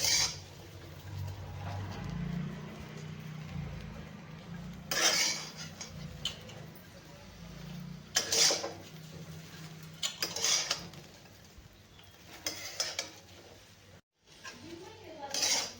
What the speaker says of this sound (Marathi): अशी भिंडी आपल्याला चांगली मस्त भाजून घ्यायची आहे